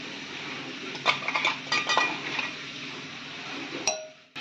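Cashew and melon seed paste scraped into a bowl of yogurt, with close clinks of a spoon against the bowl, a few soft stirring scrapes and a sharper knock near the end.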